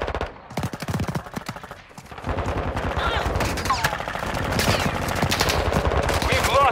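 Rapid automatic gunfire and bursts of shots from a Call of Duty: Modern Warfare II match, loud and dense, building into near-continuous firing with game effects layered over it.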